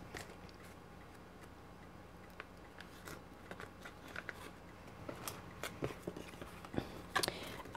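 A paper package is opened by hand, with quiet crinkling, tearing and small ticking handling clicks that come in irregular bursts and grow busier toward the end.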